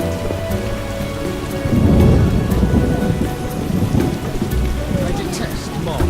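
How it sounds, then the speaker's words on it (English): Heavy rain in The Witcher video game, a loud steady downpour with a deep rolling thunder rumble swelling in the middle, and faint voices underneath. "The rain is giving me a headache."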